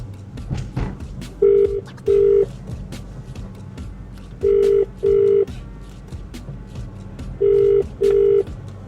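A phone line rings in three paired bursts, evenly spaced, against a low murmur of background noise with no clear talk.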